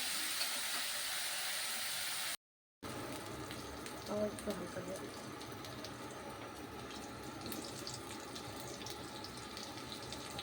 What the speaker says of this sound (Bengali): পেঁয়াজটা একটু ভাজা হয়ে যাক।